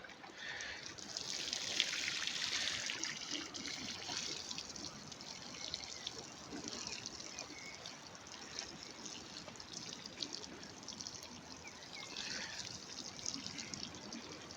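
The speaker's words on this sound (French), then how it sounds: "Ce qu'on va faire, c'est qu'on va arroser tout de suite tant qu'on est là." Water trickles steadily from a watering can onto freshly sown yellow Boule d'or turnip seedlings, a soft, continuous pour with a gentle splash that holds at an even, close level throughout.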